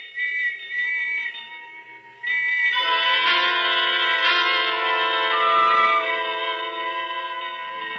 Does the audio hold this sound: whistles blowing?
yes